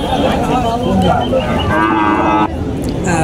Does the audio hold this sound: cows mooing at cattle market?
yes